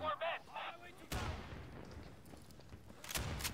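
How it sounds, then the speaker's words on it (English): Shotgun blasts in the Insurgency game, a sharp loud shot followed by a long decaying echo, with another burst of gunfire near the end and brief game sounds at the start. "can switch to this shotgun"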